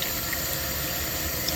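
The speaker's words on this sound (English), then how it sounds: "fill it up with water." Water from a tap runs steadily into a jug, a dense, even rushing hiss that is fairly loud and close and goes on without a break, no voices.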